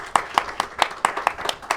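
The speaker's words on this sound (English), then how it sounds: "Let's have a round of applause for Hector, man" Hand clapping at a local community event in El Monte, a handful of distinct claps in a loose, uneven rhythm, close and moderately loud, like a small group applauding.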